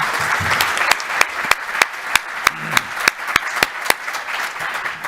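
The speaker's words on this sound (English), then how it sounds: "I would like to ask you to give a big applause to our presenters and for yourself" Audience at a transport research conference session applauds its presenters, a steady, moderately loud wash of clapping with sharp individual claps standing out in an irregular rhythm across the whole stretch.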